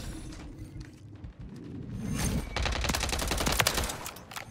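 Striker gunfire in Call of Duty MW3 multiplayer. Quiet mechanical clicks come first, then a dense burst of loud, rapid shots with sharp cracks and ringing tails near the end.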